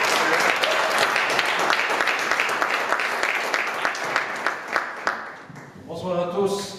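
A church audience at an opening service applauds steadily with dense clapping for several seconds, fading as a voice begins speaking near the end.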